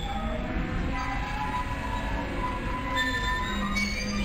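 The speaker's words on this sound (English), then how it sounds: "Replacing damaged tram car." A tram car rolls on rails in a retro Dead Space demake video game, a steady rumbling hum with faint metallic squeals and tonal whines running throughout.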